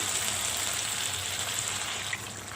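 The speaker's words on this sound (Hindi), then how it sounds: "चम्मच चलाएंगे और इसमें तकरीबन 1 कप पानी शामिल करेंगे।" About a cup of water pouring into a simmering aloo baingan curry of potato and eggplant, a steady close hiss that cuts off sharply near the end.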